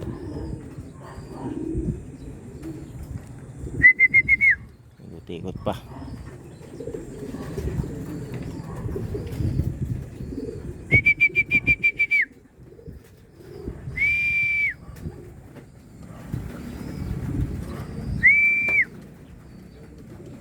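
Pigeons coo and rustle nearby, broken by several short, bright whistles spread across the clip. A person briefly speaks.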